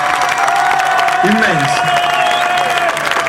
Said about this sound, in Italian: qua ci vuole l'applauso più bello di tutta la serata